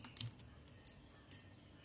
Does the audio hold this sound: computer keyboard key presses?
yes